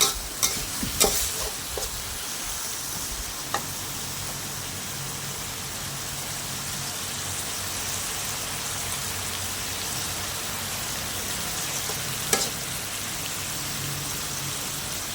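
Tofu and mushrooms stir-fry with chili in a pan, giving a steady, dense sizzle throughout with a few sharp clinks of a utensil near the start and one later, no speech.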